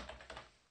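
A few quick keystrokes on a computer keyboard while code is typed, close and faint, a short burst of taps fading out.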